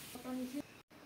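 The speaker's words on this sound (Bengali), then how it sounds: "শুধু লবণ দিয়ে একটু লাল লাল করে ভেজে নেব" Cut potatoes frying in oil with only salt, a soft close sizzle and hiss from the pan, brief and quiet, with a short break near the end.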